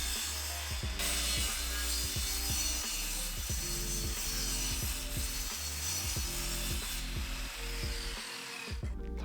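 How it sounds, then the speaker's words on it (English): Pieces for a wooden rolling top box being cut to length with a hand tool, a steady rhythmic ratcheting, rasping stroke repeated again and again, close and loud throughout, with no talking. "putting them in and cutting them to the right length."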